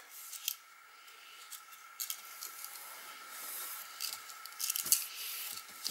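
Scissors snip through washi tape, a decorative paper tape with a thin backing film, in a quiet crafting session, giving a few soft, crisp cuts spread out alongside faint rustling.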